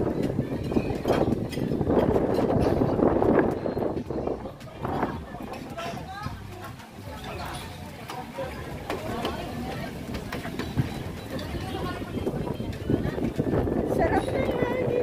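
Cool wind buffets the microphone in rough gusts at a Tagaytay hilltop viewpoint, with people talking underneath throughout.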